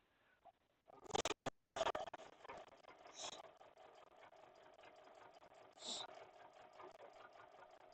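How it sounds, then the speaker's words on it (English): A sewing machine sews quilt binding, running at a faint, uneven hum with clicks and knocks. A few sharp bumps come early, and a voice talks faintly over it. "My machine is making all kinds of noises today."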